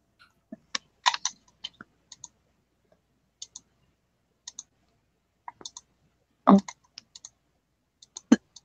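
A computer mouse clicking during an online chat, sparse, sharp single and double clicks close by in near silence, spread irregularly over several seconds.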